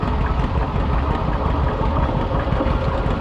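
A John Deere A tractor runs in a lakeside parade, its engine chugging in a steady, loud, low idling rumble with a slight knocking pulse that holds throughout.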